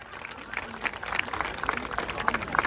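A crowd claps in scattered, building applause for a 15,000 bid at an auction during the 2024 Ortasöğütlü Circassian culture festival, with a voice speaking briefly underneath the clapping.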